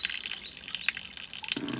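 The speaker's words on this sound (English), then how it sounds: "that's the hot tap outside, just for the cars, and then a bit of water" Water splashes and trickles steadily from an outdoor hot-water tap, with a brief gushing burst near the end.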